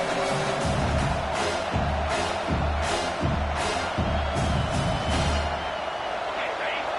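Stadium crowd at a Georgia versus South Carolina college football game, a constant roaring wash of noise under a commentator's voice, with rhythmic thumping surges running through it.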